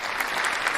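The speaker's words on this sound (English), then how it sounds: "Massive round of applause." A canned applause sound effect plays on a live football stream, a short steady burst of clapping and cheering.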